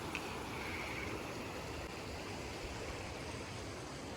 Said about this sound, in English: This is Evolution Creek.